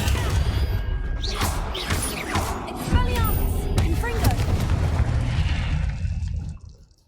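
Expelliarmus and Confringo spell blasts in the Hogwarts Legacy video game crack and splash in quick succession, loud and close, with bursts and whooshing tails before the sound fades out at the end.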